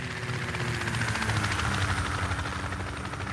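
Helicopter rotor thumping in Project Reality, a steady loud whop-whop drone with continuous engine whine as it comes in to land, no other sounds over it.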